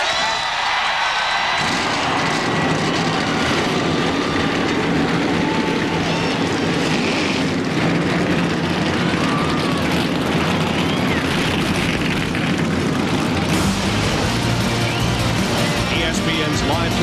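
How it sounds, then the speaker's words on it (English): A field of NASCAR Winston Cup stock cars fires up at Martinsville for the Goody's Body Pain 500, a sudden loud roar of many engines that swells into a dense, sustained rumble with crowd cheering mixed in. "Gentlemen, start your engines!"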